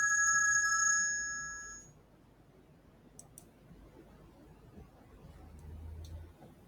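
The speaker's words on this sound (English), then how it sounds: "No, that was a phone call" A phone ringtone sounds for about two seconds in a quiet room with clear, bright repeated tones, then stops, leaving low background hum and a few faint clicks.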